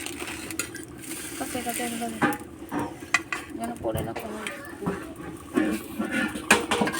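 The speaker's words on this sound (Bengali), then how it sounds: "ওইদিকে মা রান্না করছে। ভাত রান্নাটা হয়ে গেছে, এখন তরকারি হচ্ছে, আর সুজি রান্নাটা হচ্ছে" Curry and semolina pudding cook in pots in a home kitchen, with clinks of utensils, stirring scrapes and a soft sizzle under intermittent talk and background household noise.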